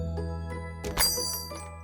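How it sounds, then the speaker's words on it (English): A shop door bell in the game Blooming Suspicion gives one bright jingling ding about midway, ringing out briefly over soft, steady background music. "the bell dings behind her"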